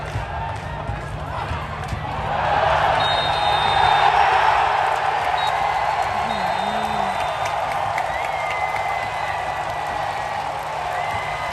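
A football crowd at a Chonburi FC versus Buriram United match produces a broad, distant roar of cheering and chanting that swells after a couple of seconds and stays steady, with a voice talking nearby over it.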